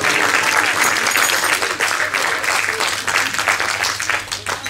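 An audience at a New Year's Eve réveillon dinner show bursts into loud, dense applause for the caterer, steady clapping that fills the whole stretch without pause.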